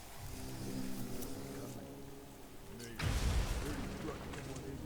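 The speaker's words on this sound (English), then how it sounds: "You'd think they'd hear that explosion that close." A sudden heavy blast bursts in about two-thirds through, its low rumble trailing off over a steady background of Batman: Arkham Asylum game ambience and faint voices.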